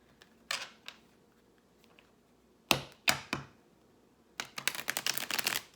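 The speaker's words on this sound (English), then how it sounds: "I feel like I need to shuffle and cut the deck." A deck of cards being shuffled and cut, with a few scattered flicks, then two sharp riffling bursts, and finally a longer rapid run of riffling close by, with no talk.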